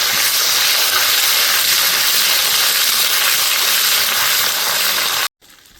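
Ginger and cumin paste stirred and frying in a pan for a prawn and cabbage dish, a loud, steady, dense sizzle and hiss that runs unbroken before cutting off abruptly near the end.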